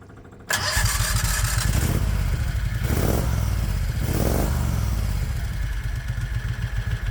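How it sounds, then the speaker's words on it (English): A modified 670 cc Predator gasoline engine cranks briefly, then catches and runs at a steady, loud idle close by, with a slight rattling clatter throughout. "I reckon we should start the engine and see what happens"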